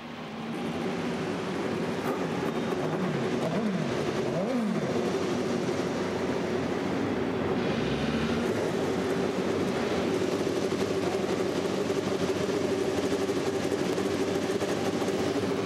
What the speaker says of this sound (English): Well, the engines have fired